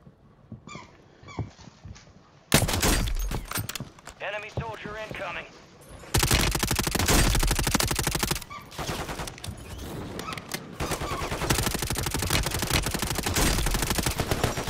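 Gunfire in the Call of Duty video game, with bursts of automatic weapon fire and scattered single shots rattling loudly and almost continuously, alongside game effects and brief voices.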